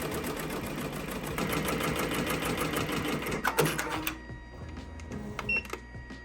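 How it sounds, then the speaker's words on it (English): A home embroidery machine rerunning a full stitching job over an unfinished design, giving a steady, fast mechanical chatter close by that stops abruptly partway through, leaving quiet room tone with a few small clicks. "all I did was a quick fix, was just rerun the entire job and just do a double embroidery basically"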